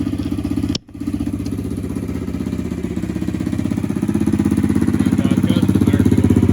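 A Yamaha TTR-110 dirt bike fitted with an upgraded carb, exhaust and custom air filter idles with a rapid, loud, close-up pulsing chatter that briefly dips near the start, then holds steady and grows slightly stronger.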